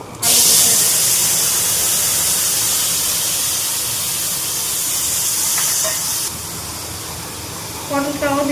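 Pointed gourd (potol) hits hot oil in a pan with a loud, steady broadband sizzle that eases slightly, then drops to a quieter frying hiss with faint clinks near the end.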